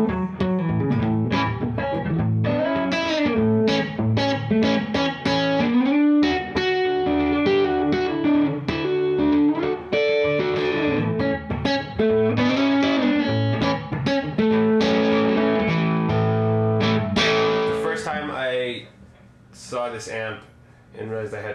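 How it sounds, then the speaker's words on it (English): Electric guitar through a hand-wired Vox AC30 amp, played loud and dense with distorted, chiming chords and lead runs throughout, thinning into sparser notes near the end. "I'm sitting here with my VOX AC30 hand-wired, which is my favorite amp and the only amp that I play"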